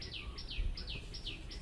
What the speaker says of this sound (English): I heard some birds in the background